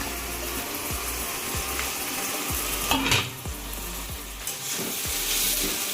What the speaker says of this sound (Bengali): এই সাদা তেলের মধ্যে পেঁয়াজগুলো সব দিয়ে দিলাম। বেরেস্তা ভেজে নিব এবার আমি।